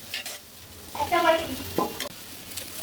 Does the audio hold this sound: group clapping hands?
no